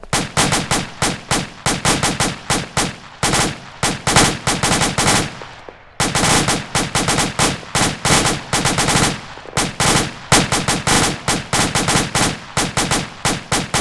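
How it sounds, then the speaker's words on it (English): A fire team shooting their guns in sustained rapid bursts, loud and close, with dense overlapping cracks and a brief pause partway through, then continued firing. "Fire team open fire."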